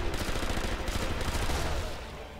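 A Thompson M1 submachine gun fires in the video game Sniper Elite V2, a dense, continuous rattle of rapid shots that holds steady, then eases slightly at the end.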